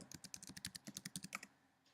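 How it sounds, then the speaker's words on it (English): Password typed on a computer keyboard, about fifteen quick, light key clicks in an even run before trailing off, close and quiet. "Okay, we type a password."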